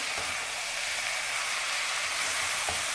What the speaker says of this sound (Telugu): చక్కగా ఫ్రై అవుతుంది కాకరకాయ ఈ ఫ్రై చాలా చక్కగా ఫ్రై అవుతుంది